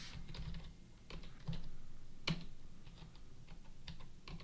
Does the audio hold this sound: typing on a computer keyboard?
yes